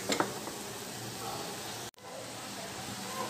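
Garlic paste and onion stir-frying in a pan for bhendi gosht, a steady close sizzle with faint stirring scrapes, briefly cutting out midway before resuming.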